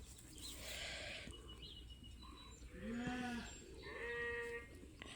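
Sheep bleat several times during sorting and weaning of ewes on a farm, a few drawn-out calls rising and fading at moderate distance over low outdoor background noise.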